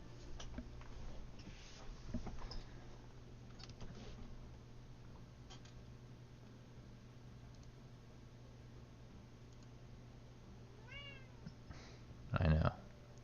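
A pet cat meows near the end, a short loud call standing out over a steady low hum and faint background noise, with brief human speech earlier on.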